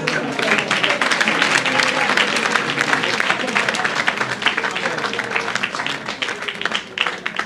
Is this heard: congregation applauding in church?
yes